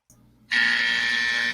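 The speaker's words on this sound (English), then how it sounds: "you're going to hear a buzzer that sounds like this" Quiz show buzzer used as a three-second answer timer, a single loud harsh sustained buzz lasting about one second after a brief soft lead-in, heard alone.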